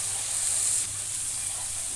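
Hot water poured into a cooking pan in a home kitchen makes a steady, close hissing rush that runs for about two seconds, slightly stronger at the start, with no voices.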